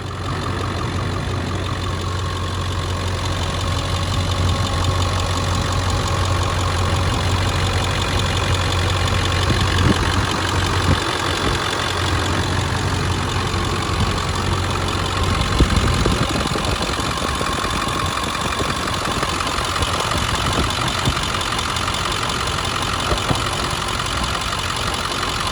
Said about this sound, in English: that's the blow-by test this truck passes